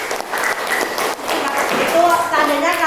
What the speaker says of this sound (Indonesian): tepuk tangan untuk kedua teman kalian ya